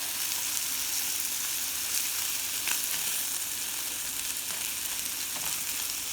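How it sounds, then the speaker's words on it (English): Carrots and beans fry in oil in a pan, giving off a constant close sizzle with occasional soft stirring scrapes. "So first I'm going to put the carrot and the beans. We can fry it up."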